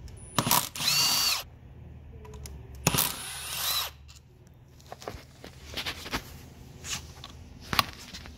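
A power driver with a T30 Torx bit whirs in two short loud bursts removing bolts from a Mercedes 7G-Tronic 7229 AMG transmission conductor plate, followed by quieter ratcheting and handling clicks.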